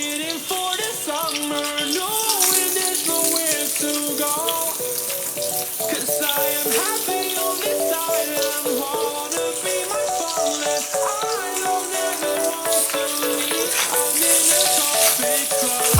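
Potatoes frying in hot oil for a halwai-style aloo gobi give a steady, dense sizzle that runs continuously at even loudness, with no talk over it.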